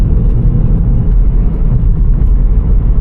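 A Vauxhall Corsa with a steering fault that snatches at the wheel approaches a roundabout under braking, its cabin filled with a steady, loud low rumble of engine and road noise.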